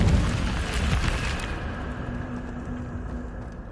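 Incendio fire spell cast in Hogwarts Legacy, a loud whooshing burst of flame that flares at once and then tapers off into a fading rumble over a few seconds.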